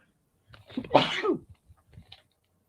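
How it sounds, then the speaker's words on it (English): A single sharp sneeze, close and loud, with a short intake before it and a few faint breaths and rustles after. "sneezed on air"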